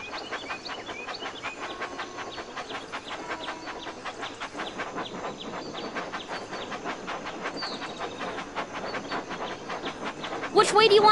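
A toy-style steam train chugs along the track in Thomas & Friends: Magic Tracks, with a regular clickety rhythm and hiss, loud and near, and a bright chime-like burst at the very end.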